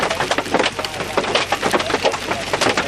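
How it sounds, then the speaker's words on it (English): Hail pounding surfaces during a hailstorm in Oklahoma City, a dense, continuous clatter of hard impacts, loud and close, without talking. "This hailstorm has been going on for probably close to 20 minutes."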